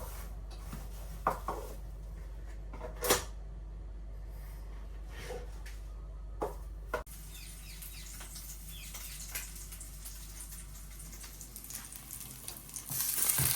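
Dorado fish curry cooking in a pan on the stove, giving off a steady close sizzle and bubbling with a few soft clinks and taps scattered through.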